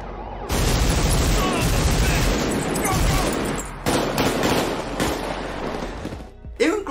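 Dense, loud gunfire rattles in a sustained barrage from a film shootout scene recorded with real guns, with bursts and echoing booms and a brief break near the end.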